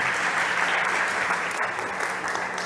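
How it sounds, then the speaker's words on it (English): A crowd at a fintech startup competition stage applauds a pitch speaker, a loud, dense and sustained clatter of clapping that thins slightly toward the end. "Big applause to Gonzalo"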